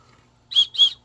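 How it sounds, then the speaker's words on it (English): A small survival whistle from a gear kit gives two short, shrill blasts in quick succession. They sound close and loud against a quiet background, with no talking. "it's got a little whistle here"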